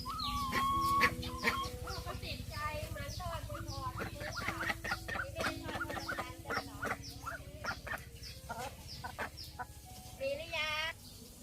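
Purebred laying hens on a duck-and-poultry farm cluck repeatedly while settling in to lay. Their clucks and short squawks come in irregular bursts, fairly close, over a low farmyard hum.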